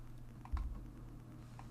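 Keyboard Shift key held while a mouse clicks out straight lines during photo clipping, giving a few soft, close clicks and key taps over quiet room hum.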